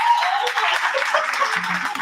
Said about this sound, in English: Let's clap for our lovely poets